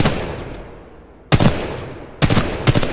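Wingman pistol shots in Titanfall 2, a few sharp, loud reports: one single blast, then a later pair in close succession, each ringing out over a quiet game background.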